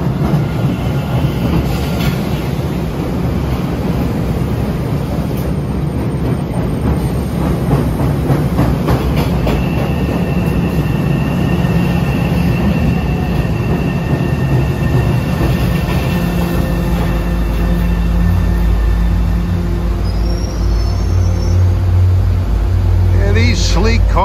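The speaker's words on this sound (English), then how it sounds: "Here comes one of their CRRC subway trains." A CRRC Orange Line subway train pulls into Back Bay station in Boston, a loud, steady rumble of wheels and motors rising near the platform, with faint clattering and a low hum swelling toward the end.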